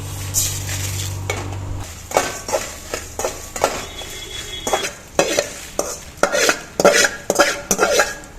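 Small and large onions and two tomatoes fry in a little oil in a kadai, a low sizzle under a series of sharp, rhythmic metal stirring scrapes and clanks against the pan.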